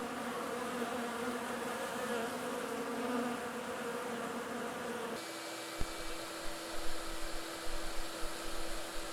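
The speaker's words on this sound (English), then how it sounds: "when I opened my garage doors, the bees came in to clean up little bits of residue of honey that was on the equipment" Honey bees buzzing inside a garage around beekeeping equipment, a dense steady hum of many insects at close range, giving way to quieter buzzing with a few nearby knocks.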